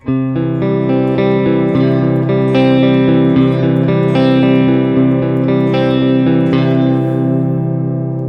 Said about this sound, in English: You're literally just plucking the notes of the chord.